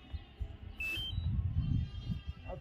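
A DJI Mavic Air 2S drone gives two quick rising electronic beeps as it powers on, close and fairly clear over low handling noise and rustling outdoors.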